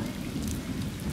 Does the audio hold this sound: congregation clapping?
no